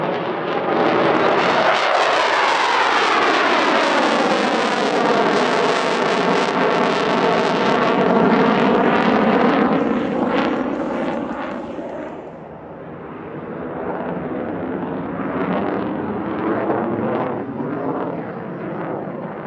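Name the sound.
Dassault Rafale B two-seater jet flying at airshow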